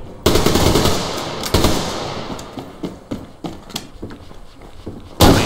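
AK rifle gunfire in the online shooter Survarium cracks out in bursts, loud and close, with a long rattling stream of shots that thins into scattered single reports before a final heavy blast.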